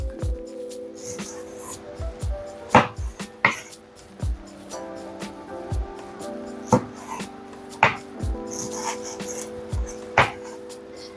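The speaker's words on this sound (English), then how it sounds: "I recommend you cut them into tiny bits like this after scooping them out" A knife chops scooped tropical fruit into tiny bits on a board, sharp irregular taps and thuds close by, some in quick pairs, over a steady low hum.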